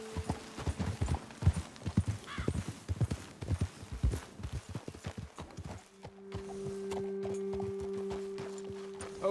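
Rapid hoofbeats of horses galloping in Red Dead Redemption 2, a fast steady clatter for several seconds, then the hooves stop and a sustained low hum remains.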